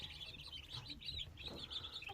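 Ducklings and young meat chicks peep in a steady run of thin, high chirps, close by and continuous, over soft low shuffling as they find their feed and water.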